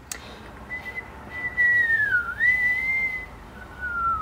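A person whistles a wavering melody with a few sliding notes, fairly clear against faint background noise, with brief pauses between phrases.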